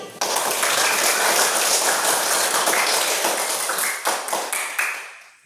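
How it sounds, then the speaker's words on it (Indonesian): A classroom of students applauds again in a continuous, busy wash of overlapping claps that stays loud throughout, easing off in the final second. "tepuk tangan sekali lagi."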